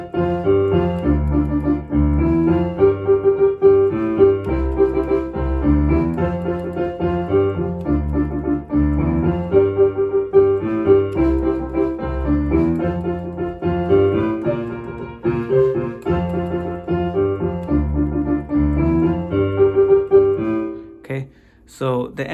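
Piano playing a song, melody on top with rhythm chords and a bass line, steady and fairly loud for about twenty seconds, with a brief break and a few extra notes at the end.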